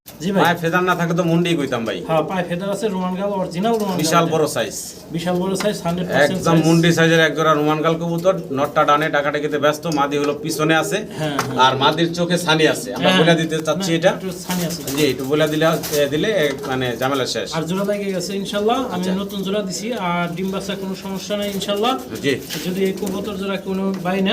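Pigeons coo in repeated throaty bursts throughout, loud and close, while people keep talking over them at a pigeon sale.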